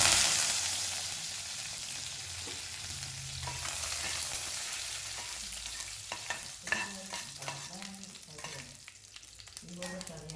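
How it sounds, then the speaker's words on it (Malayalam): Mustard seeds splutter in hot oil in a pan for a tender jackfruit stir-fry. A steady sizzle runs throughout, and sharper pops and crackles grow more frequent toward the end. "അപ്പോൾ ഇവിടെ കടുക് പൊട്ടി വരുന്നുണ്ട്."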